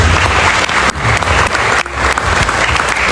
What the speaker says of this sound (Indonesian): Boleh kasih tepuk tangan untuk Pak Atif.